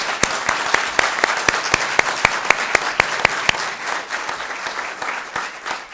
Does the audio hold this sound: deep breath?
no